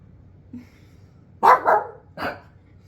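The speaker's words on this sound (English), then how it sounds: "You are deaf and just are barking because you see her barking." A small old pug gives a short, sharp bark or two and then a third yap after a brief pause, close by in an otherwise quiet room.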